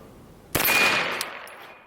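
A CZ Scorpion Evo in FDE finish fires at longer range: one sharp, loud report with a ringing decay, then a second shot about two-thirds of a second later, with no voices.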